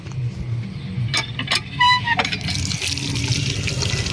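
Water splashes and trickles steadily over freshly cut aloe vera leaves being washed in a rural village setting, close and continuous with faint background sounds.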